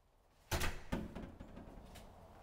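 A front door opening with a sharp clunk of the latch and a second knock, then a fading rattle, fairly close in a quiet space without talk.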